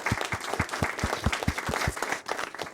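An audience at a fireside chat gives steady, lively applause, with many hands clapping in a dense, even wash that carries on throughout and dips briefly near the end.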